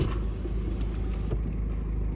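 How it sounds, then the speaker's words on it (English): A car engine idles with a low, steady rumble close by, unbroken by speech. "oh no, you can hear my car."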